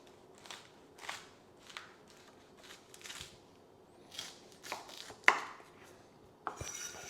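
A knife cuts through cauliflower steaks on a board, giving soft separate chops and crunches spaced about a second apart, with one sharper knock, close and quiet with no talking.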